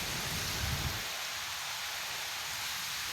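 Heavy rain with hail pours down in a dense, steady roar during a hailstorm in Cuttack, with a brief rumbling thump near the start.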